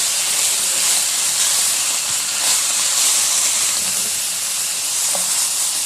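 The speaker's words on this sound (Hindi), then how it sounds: "ज़ीरा और अजवाइन ये डाल देंगे, हाफ ऑफ टी स्पून डाल के इसको 1 मिनट मज़ीद फ्राई करेंगे।" Cumin and carom seeds frying in a pan, a loud, steady, close hiss of sizzling oil held evenly throughout with no talk.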